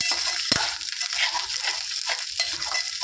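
Fish roe frying in a pan, a steady close sizzle with faint stirring clicks and a couple of sharp scrapes, with no talking.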